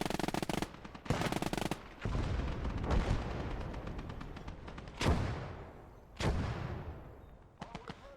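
Half-track machine guns fire in the Gates of Hell: Ostfront video game: several loud, rapid bursts of automatic fire, some with booming reports and long echoing tails, separated by short gaps amid battle noise.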